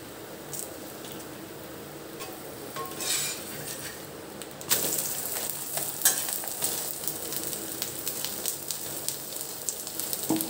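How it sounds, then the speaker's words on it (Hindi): Paneer paratha frying in ghee on a pan: a faint low sizzle swells into a louder, steady crackling hiss with scattered pops and small scrapes of a utensil, no talk. "दोनों तरफ से हम इसको ऐसे ही सेकेंगे।"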